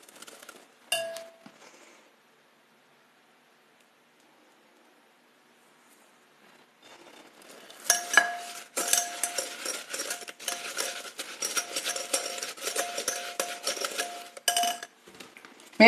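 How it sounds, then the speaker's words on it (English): A whisk clinks and scrapes against a bowl while mixing a homemade soap mixture, a short burst of tapping first, then a long stretch of rapid, steady metallic rattling after a quiet gap. "Maybe I shouldn't have used a whisk."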